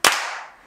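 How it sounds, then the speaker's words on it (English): A single sharp clap from a group of kids clapping in unison to trigger a Tello drone, a loud bright crack followed by a short room echo fading away. "Should we all clap together?"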